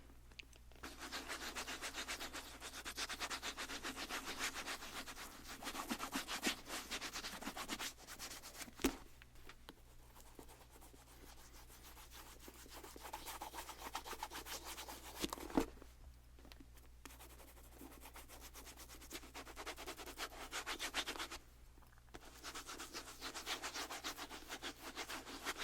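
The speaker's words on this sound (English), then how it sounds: "Just buff the shoe off." Nylon stocking buffing a Louis Vuitton designer sneaker after cleaning: steady soft rubbing strokes, close and quiet, in long continuous passes broken by a few brief pauses, with no talking.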